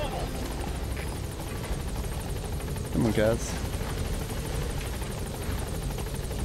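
A helicopter's rotor drones continuously in Metal Gear Solid V: The Phantom Pain, a steady loud chopping wash filling the scene while someone speaks briefly over it.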